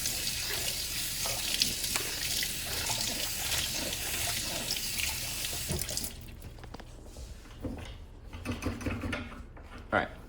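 A kitchen tap runs steadily, filling water to soak slightly spoiling cucumbers, a loud continuous rush that stops partway, then quieter clinks and handling sounds follow.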